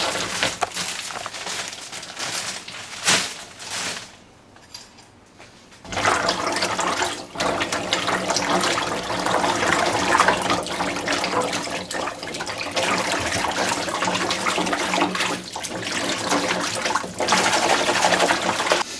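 Frozen figs rinsed in a pan under running water, a steady loud rush and splash that continues almost without a break, with a short softer dip partway through.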